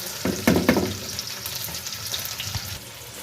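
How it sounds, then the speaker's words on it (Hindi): Two tomatoes with masala frying in a pan, a close, continuous sizzle broken by a few sharp clinks and scrapes of stirring early on, with no voices. "अब 2 टमाटर भी इसमें मैंने शामिल कर दिए। इनको भी अच्छा सा थोड़ा सा बिल्कुल फ्राई करके"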